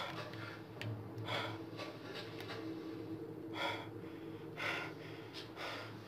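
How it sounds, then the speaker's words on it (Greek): Several audible breaths, gasps and snorts come close and fairly faint over a background hum during a tense Resident Evil 7 VR session, with no words spoken. "Μια βαθιά ανάσα γιατί δεν την παλεύει."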